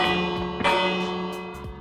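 A single Minecraft bell rings with a bright, sustained metallic tone that hangs and slowly fades, with faint soft knocks underneath.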